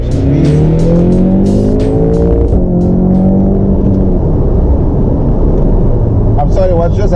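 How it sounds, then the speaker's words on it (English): A tuned Audi S3 sleeper accelerates hard, its engine note climbing loudly through the gears up close inside the car, while someone talks over the roar. "I've actually used the accelerator for the first time"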